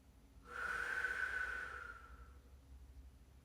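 A single slow, audible breath during a cool-down stretch, drawn out over about two seconds and fading softly in a quiet room.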